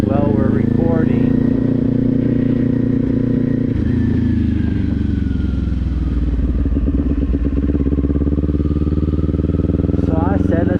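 Kawasaki Z400 motorcycle engine heard while riding, a steady loud drone that shifts pitch as the rider changes speed, with revving near the start and end and wind and road clatter throughout.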